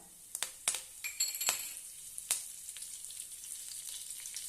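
Mustard seeds, cumin and curry leaves sizzling in hot oil, with sharp crackles and pops bursting early, then settling into a fainter steady sizzle.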